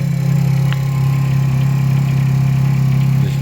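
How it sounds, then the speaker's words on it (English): An Aprilia SR50R scooter with a Piaggio Ditech 50cc two-stroke engine idles steadily up close, a loud, even, low buzzing drone held without change for a few seconds and no voices over it. "That's how easy this bike starts up."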